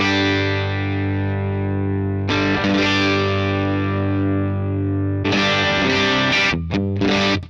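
Electric guitar played through a Universal Audio Ruby 63 pedal with its boost engaged, an AC30-style amp tone with distorted sustained chords ringing out, restruck a few times and cut off near the end, with no talk.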